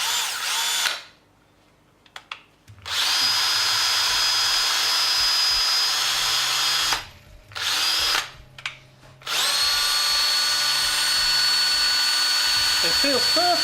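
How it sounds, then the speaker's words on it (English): A power drill runs at about 1000 RPM, spinning an X-axis part stripped from a CNC 6090 router. The steady, loud whine runs in two long stretches, broken by brief pauses, with a voice speaking over it. "I got it on my drill,"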